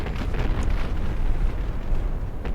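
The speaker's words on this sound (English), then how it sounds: "Oop, something went up. Looks like it might have been an ammo stowage on Bargearet." In a naval warfare video game, a pre-dreadnought ship's ammunition stowage explodes, giving a dense, rumbling blast that rolls on steadily for a couple of seconds without speech.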